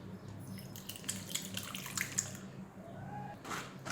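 Strained tamarind water pours into beetroot juice for beetroot rasam, making a soft, continuous trickle and splash close by.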